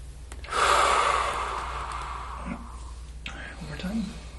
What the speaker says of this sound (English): Deep breath in for me.